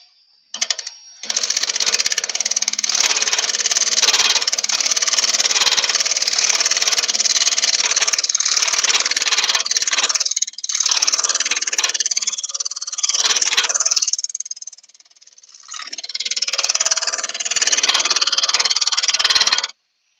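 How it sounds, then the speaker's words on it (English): Wood lathe with a three-phase motor turning a wet branch into a bowl, a steady loud broadband whir and scrape lasting nearly the whole stretch, dipping briefly near the end before resuming, with no talking. "I can't stop this lathe by hand because it's the 3-phase motor"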